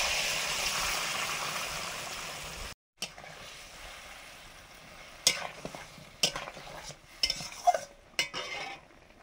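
Mustard paste water with dried mango being poured into a simmering fish curry, giving a steady sizzle and bubbling with a brief gap, then clinks and scrapes of a utensil against the pot.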